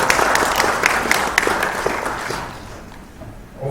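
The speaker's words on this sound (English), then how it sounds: "Please, a round of applause" An audience at a cyber security conference applauds a speaker, a broad wash of clapping that is loud at first and then gradually thins and fades away toward the end.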